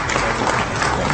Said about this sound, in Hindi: पूरा हॉल तालियों की गड़गड़ाहट से गूंज